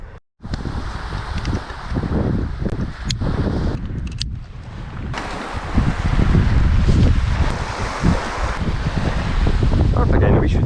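Ocean surf rolling into shallow water at a beach, a steady broadband wash with strong wind buffeting the microphone, growing louder and fuller in the second half without pause.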